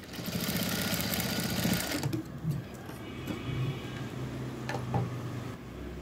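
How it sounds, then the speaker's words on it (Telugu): Sewing machine running a double seam along folded cloth: a fast, close mechanical rattle in a sustained burst, then shorter stop-start runs of stitching with small clicks and pauses. "ఇక్కడ నుంచి ఇక్కడికి కుట్ అనేది వేసుకోవాలి. డబల్ కుట్ అనేది వేసుకోవాలి."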